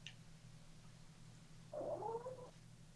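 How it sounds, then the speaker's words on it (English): A house cat gives a single short, drawn-out meow, faint and somewhat distant, over a low steady room hum, with no one talking. "Was that a meow?"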